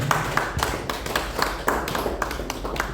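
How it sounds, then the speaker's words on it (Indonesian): An audience applauds a newly promoted doctor at a doctoral promotion ceremony, a scattered run of sharp claps from a modest crowd, fairly close, continuing throughout. "untuk itu beri aplaus kepada beliau"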